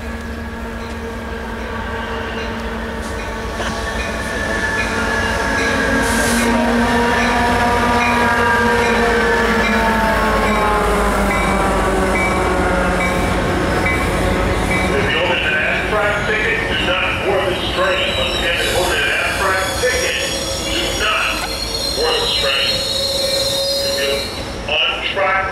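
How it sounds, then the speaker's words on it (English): A Metrolink commuter train rolls past Fullerton Depot with long, wavering wheel squeals and steady rumble, building then clattering over the rails for a sustained pass. "Here comes a Metrolink train"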